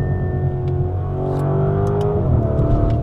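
Lamborghini Urus SE hybrid SUV engine revving hard through downshifts from fourth to second gear, a loud, close, continuous roar with rising and falling pitch and sharp crackling bursts from the exhaust, with no talking.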